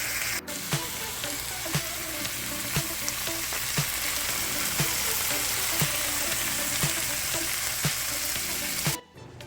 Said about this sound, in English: onions and peppers. We are sizzling and looking delicious.